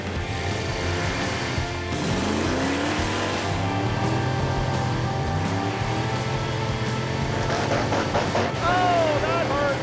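A Roadkill project vehicle launches hard down a drag strip in low gear, its engine roaring and revving loudly throughout, with pitch sweeping up through gear changes, and a voice talks over the run.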